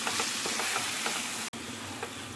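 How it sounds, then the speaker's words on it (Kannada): Burnt brinjal curry sizzles steadily as it fries with masala in a pan, a continuous close hiss with faint stirring scrapes, broken by a split-second dropout midway. "ಅಲ್ಲಿ ತನಕ 3 ನಿಮಿಷ ಆಗೋ ತನಕ ಆದರೂ ಹೀಗೇ ಫ್ರೈ ಮಾಡ್ಕೊಳ್ಬೇಕು."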